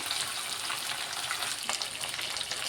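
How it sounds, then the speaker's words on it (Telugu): Chopped onion, green chilli and curry leaves fry in hot oil for an Andhra-style dal tempering, giving a loud, dense and continuous sizzle heard close up. "ఈ ఉల్లిపాయ ముక్కలు బాగా వేగే వరకు బాగా కలుపుకోవాలి."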